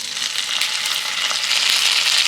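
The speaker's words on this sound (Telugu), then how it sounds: "ఆ ముక్కలు అనేవి విడిపోకుండా మెల్లిగా ఫ్రై చేసుకుందాం" Pieces of boiled egg fry slowly in oil in a pan for a village-style egg pickle, a steady close hiss and crackle that holds evenly throughout with nothing else heard.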